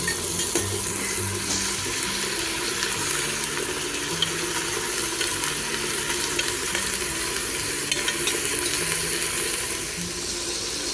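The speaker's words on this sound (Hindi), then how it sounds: "अब हम थोड़ा सा मतलब बीन्स को भी हल्का फ्राई करेंगे तेल में, ताकि बीन्स भी थोड़ी सी फ्राई हो जाए।" Green beans fry in oil in a pan for Kashmiri heambe, giving a continuous loud sizzle with occasional stirring scrapes and a low running hum behind it, with no talking.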